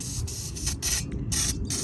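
Cleaner is sprayed onto the dark plastic in a Mustang EcoBoost engine bay, with four or five short, close, hissing bursts separated by brief pauses.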